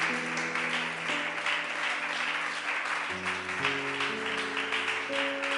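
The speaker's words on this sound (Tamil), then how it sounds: "நல்ல நம்மளுடைய வீரர்களுக்கு நல்ல ஒரு கைத்தட்டு கொடுங்க." A church congregation applauds the Indian cricket team, with sustained clapping from many hands running steadily under organ or keyboard chords that shift throughout.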